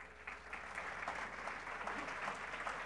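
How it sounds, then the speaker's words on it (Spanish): Brief, steady applause from an audience for a guest at a TV forum inauguration, a dense patter of clapping heard at moderate distance. "Un aplauso para él."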